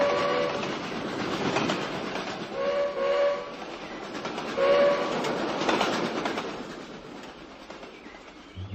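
A toy train runs along its track with a steady rolling rumble and clatter, punctuated by a few short whistle-like toots, at moderate loudness with no voices.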